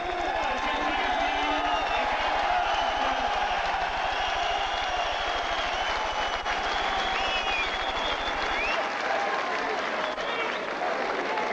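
A boxing arena crowd at a WBC middleweight title fight in Villeurbanne applauds continuously, a dense wash of clapping and cheering that holds throughout, thinning slightly toward the end.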